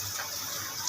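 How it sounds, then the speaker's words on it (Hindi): Water being poured into a cooking pot of vegetables during home cooking, a steady close gushing splash that runs through the whole short moment with no talk over it. "पानी डालते हैं हमने इसमें"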